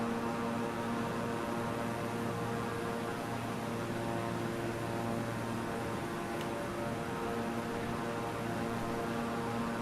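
A Beechcraft propeller aircraft engine in Microsoft Flight Simulator drones with a steady, even hum and airy whine, constant and unbroken throughout, with no talk over it.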